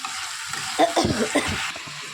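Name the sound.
sautéing (kosha) a dish until the oil separates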